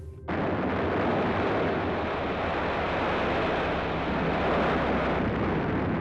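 Heavy artillery salvo during the Mers El Kébir naval attack, a sustained roaring rumble of continuous blasts that starts abruptly and stays loud and dense throughout, with no voices.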